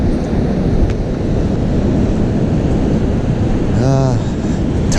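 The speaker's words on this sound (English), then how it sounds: "It's pretty windy." Strong wind buffeting the microphone and surf washing on a beach after a hurricane, a steady loud roar with a brief tonal whine near the end.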